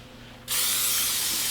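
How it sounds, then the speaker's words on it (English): Cooking spray bursts into a baking pan for a vegan pumpkin coffee cake, a sudden loud, steady hiss that starts abruptly and continues unbroken, close and alone. "Let me get my cooking spray right here"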